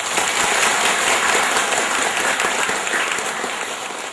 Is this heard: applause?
yes